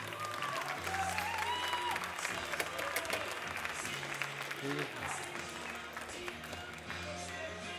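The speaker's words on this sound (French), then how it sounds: "Allez, des applaudissements pour Marco, s'il vous plaît." At the 2016 World Barista Championship France final, the audience applauds for competitor Marco, a quiet, distant patter of clapping running under a speaking voice and room noise.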